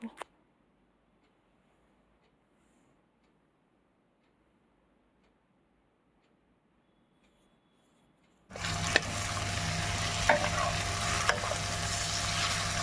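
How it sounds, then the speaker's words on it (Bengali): Red lentils and spices stir-fried in a pan: near silence for most of the stretch, then a sudden loud, steady sizzle with scraping stirs and a few sharp ticks of utensil on metal. "এবার মশলার সাথে খুব ভালোভাবে কষিয়ে নেব প্রায় এক থেকে দু মিনিট টাইম লাগিয়ে মশলা আর ডাল খুব ভালোভাবে কষিয়ে নেব"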